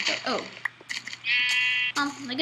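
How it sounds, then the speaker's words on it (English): Minecraft sheep bleats in the video game, a few nasal wavering calls heard over a steady low in-game hum, with one longer drawn-out bleat in the middle. "Sheep wants to say hi."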